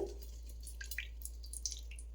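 Sparse, quiet water drips falling irregularly from a sieve of drained coriander leaves, a handful of soft plinks over a low steady hum.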